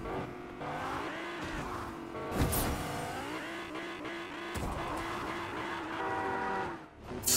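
Truck horn honking in a Fortnite truck-chase game mode, a sustained blaring tone over continuous game engine and traffic noise, with a brief louder burst midway.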